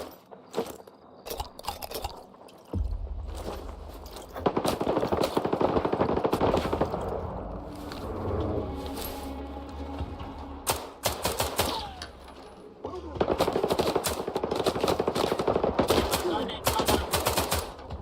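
Gunfire in the video game S.T.A.L.K.E.R. 2, long bursts of rapid automatic shots mixed with single cracks, loud and close, in repeated volleys broken by short lulls.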